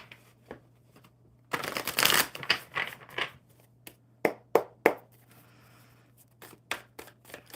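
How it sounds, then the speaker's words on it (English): Tarot cards are riffled and shuffled by hand in several quick, crisp bursts with short pauses, close up against a faint steady hum. "One more good shuffle for Ashwin."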